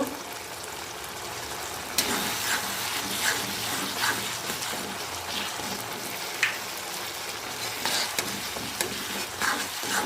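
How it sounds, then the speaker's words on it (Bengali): Spoon stirring gourd curry in a pan after cumin powder goes in, with a steady close-up scraping and faint sizzle and sharper clacks now and then, no talk. "ভালো করে নেড়ে নিতে হবে।"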